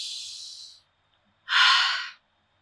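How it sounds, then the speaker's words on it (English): Deep, slow breaths drawn close to the microphone: a long airy inhale tapering off, a second of silence, then a fuller, louder breath that stops abruptly. "if we just really pause and do deep breathing"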